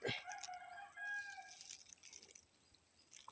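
A rooster crows faintly at the start, with soft clucks and rustling afterward in a quiet outdoor setting.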